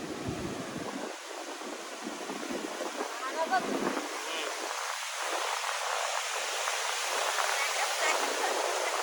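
Sea waves wash onto a beach in a continuous airy roar of surf with gusting wind noise, swelling louder toward the end, while a person speaks briefly over it.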